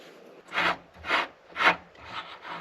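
Wrench forcing a gunked-up threaded foot into a Pac-Man arcade cabinet, three loud grinding, rasping strokes in a steady rhythm, then a softer fourth, close and with no talk.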